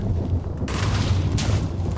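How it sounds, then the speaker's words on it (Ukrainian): Explosions in a Minecraft survival game, a continuous rumbling barrage of booms with two sharper blasts standing out, loud and close with no talk over them. "Там якісь вибухи! Він все підриває!"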